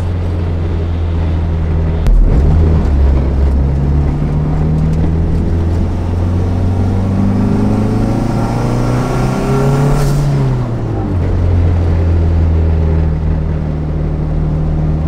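A car engine pulls hard in third gear, a loud, steady, close droning roar that climbs in pitch, dips briefly about two-thirds through, then carries on strongly.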